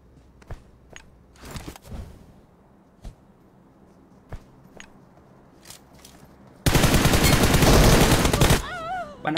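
Shooting video game gunfire: scattered single sharp shots and crunchy impacts early on, then a loud sustained burst of rapid automatic fire that dominates the final few seconds.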